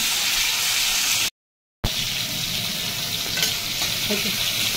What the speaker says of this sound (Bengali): এবার আমি ভালো করে ভেজে নেবো জিনিসটা।